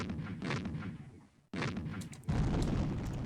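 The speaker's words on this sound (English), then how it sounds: "Let's start activating these cannons" Cannons firing in the strategy video game Civilization 2: a muffled booming burst, a sudden break in the sound, then further rumbling blasts, all fairly quiet, with no voices.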